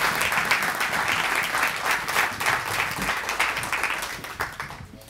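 Warm applause from the audience at a Spanish-language book presentation, a steady dense round of clapping lasting the whole stretch and fading slightly toward the end.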